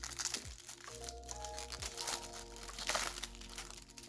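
Yu-Gi-Oh! card box packaging being opened close up: continuous crinkling and crackling of wrapping, with a few sharper crunches and tears, fairly quiet.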